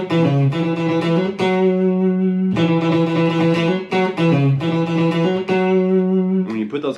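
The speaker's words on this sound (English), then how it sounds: "they're also picking kind of closer to the bridge because it has that twangy kind of open string sound like this" A twangy electric guitar plays a repeating single-note funk line picked near the bridge, with crisp attacks and short rhythmic phrases, clear and close with no talking.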